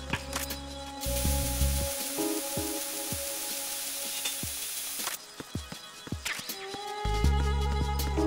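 Metal Gear Solid 2 bug spray, one long steady hiss from about 1 to 5 s over soft clicking and taps, then game tones and a low musical swell. No voices.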